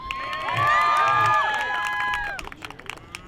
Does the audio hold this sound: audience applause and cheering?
yes